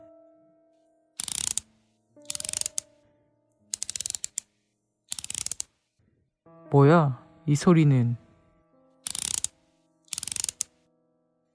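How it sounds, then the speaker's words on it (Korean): A cutter knife blade is pushed out in repeated short bursts of ratcheting clicks, crisp and close, separated by silences, with a voice speaking briefly midway. "드륵드륵 하는 소리는 커터칼의 날을 꺼내는 소리였습니다."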